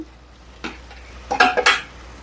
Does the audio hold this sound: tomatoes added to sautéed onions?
yes